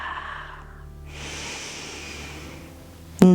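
A single slow, deep breath during a gentle yoga session, a soft airy exhale close to the mic, followed by a sudden knock at the end.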